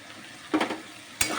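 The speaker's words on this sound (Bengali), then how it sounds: "লবণ দিয়ে এবার আর একটুখানি ভালো করে কষাবো, মানে ভাজা ভাজা করবো আর কি" Salt-seasoned vegetarian dish being stir-fried in a pan, giving two short bursts of stirring and sizzling with a quiet simmer between them, heard close with no talking.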